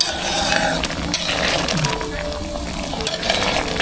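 Rice-field crab fat simmering and being stirred in a pot for a Thai crab-fat curry with tilapia, giving a steady bubbling sizzle with faint clinks of a utensil throughout.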